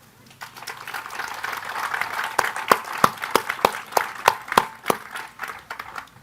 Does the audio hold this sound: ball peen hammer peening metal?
no